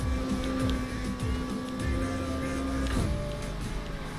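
A Porsche 911 Carrera GTS in the Need for Speed Heat racing video game roars steadily at high revs through a corner, with a gear shift and a drop in engine pitch near the end.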